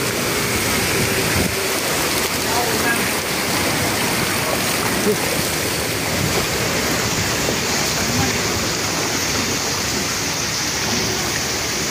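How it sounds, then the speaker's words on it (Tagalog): Heavy rain pours in a dense, constant hiss over rushing flood water in Manila, loud and unbroken throughout. "At ayan, lumalakas pa nga yung ulan, no?"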